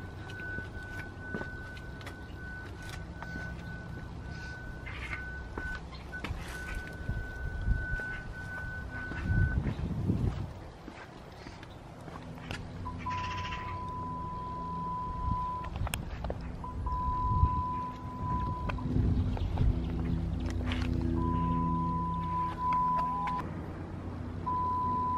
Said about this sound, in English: As you can hear, all of the parking sensors are working perfectly.